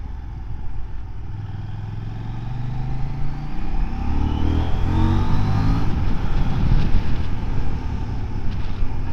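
A 2024 Husqvarna Svartpilen 801 motorcycle pulls hard, engine pitch climbing and dropping through a gear change, under heavy wind rush at the rider's microphone, no talk.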